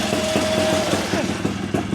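Two-stroke motorcycle with a remote-start setup idling as it warms up, a steady low engine chug running close by for a couple of seconds while someone talks over it.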